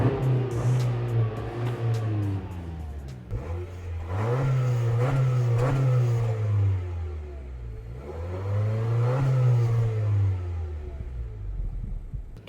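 A Honda Accord Sport engine, parked, revs repeatedly up toward its 4,000 RPM limit and falls back, three or four rising and falling sweeps, loud and close with no voices.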